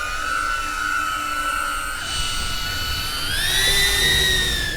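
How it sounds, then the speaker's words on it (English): Loud police drone flying overhead, a steady high-pitched whining buzz that holds level, then rises in pitch and grows louder near the end, with a low rumble underneath. "This drone is very loud and intimidating when you hear it."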